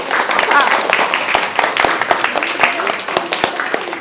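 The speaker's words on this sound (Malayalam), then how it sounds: "എല്ലാവരും ഒരു ക്ലാപ്പ് കൊടുത്തേ" An audience applauds at a school opening celebration. Many close, sharp claps rattle on for several seconds while voices chatter through the applause.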